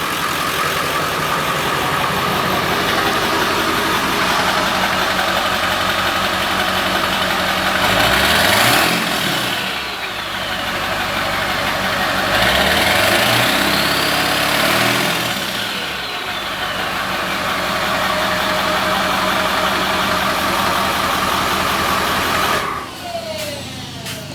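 A 7.3 Powerstroke diesel engine in a Ford Bronco idles steadily with a low rumble, rising briefly in bursts a couple of times, then cutting off abruptly near the end.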